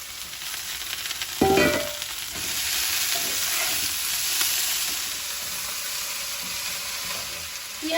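Potatoes and Malabar spinach leaves fry in a pan, giving a close, constant sizzle with a few clattering stirs and scrapes near the start and lighter stirring noises later.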